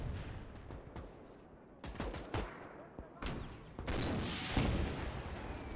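Mortar and weapons fire in a Gates of Hell battle, with repeated booming shots and crackling gunfire over a busy battlefield din, growing louder toward the end.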